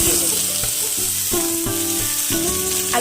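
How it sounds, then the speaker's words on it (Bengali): White potatoes sizzle and fry in a hot wok with dried chilli and whole spices for a potato curry, a steady close crackle with clattering stirring strokes throughout. "আলুটা আমার বেশ ভাজা ভাজা হয়ে গেছে"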